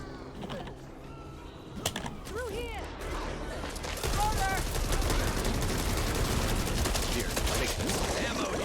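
A shotgun fires in the Back 4 Blood zombie shooter, in rapid repeated blasts that blend with other gunfire, shrieks and game noise at a steady, dense level.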